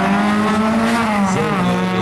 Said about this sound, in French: Très belle voiture hein, qui défile devant nous,